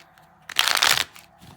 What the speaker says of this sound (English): I'll give these a good shuffle.